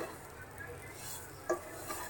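A vermicelli barfi mixture with powdered milk and coconut is fried in ghee and stirred in a pan, a quiet steady sizzle with occasional scrapes and one light clink.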